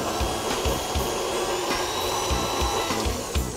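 An electric stand mixer beats butter, sugar and eggs in a steady mechanical whir, with a faint rhythmic thumping as the beaters turn through the batter.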